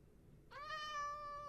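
A cat in the Minecraft video game gives a single clear meow, tonal and rising, close and alone over faint background noise.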